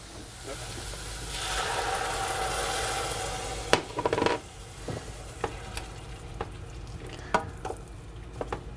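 Leeks sizzle and hiss in a pan after wine is poured in, a steady frying hiss that swells and then settles, followed by several sharp clicks and scrapes of stirring utensils.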